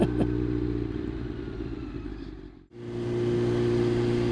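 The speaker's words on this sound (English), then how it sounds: "And we'll see the bikes go past again." Motorcycles on a theft awareness charity ride pass a roadside marshal, a steady loud engine drone filling the clip, briefly dipping near the middle before the next bikes roar by close up.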